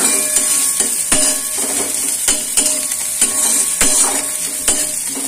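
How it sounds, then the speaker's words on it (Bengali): Onion fries in a pan for Bengali doi potol, giving a continuous close sizzle broken by repeated sharp clicks and scrapes as a spoon stirs it. "পেঁয়াজটা একটু ভাজা ভাজা হচ্ছে"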